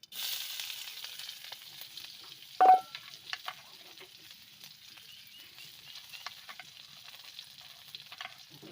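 Onions and dried red chilies frying in hot oil with mustard seeds, a steady close sizzle with stirring scrapes and one sharper clatter partway through.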